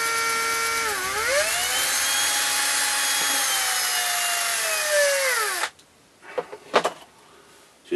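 A power drill bores lengthwise through a wooden stick to make a long bushcraft pipe stem. The loud, steady whine sags in pitch under load for several seconds, then cuts off, followed by a few knocks and rattles.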